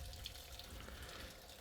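Water from a tap runs steadily into a 5 gallon bucket during a medaka pond water change, a continuous close splashing hiss with no talk.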